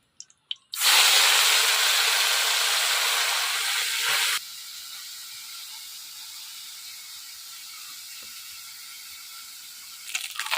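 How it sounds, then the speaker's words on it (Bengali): Small fish hit hot oil with a sudden loud, bright sizzle that hisses steadily, then drops to a softer continuous crackle as the frying settles, with a brief clatter near the end. "এবার বাকি মাছগুলো সব ভেজে নেব।"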